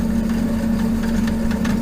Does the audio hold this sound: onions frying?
no